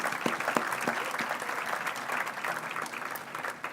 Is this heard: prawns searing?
no